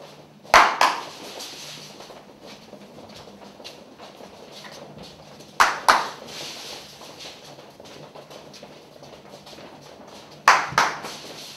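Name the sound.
hand clapping signal in a classroom PE game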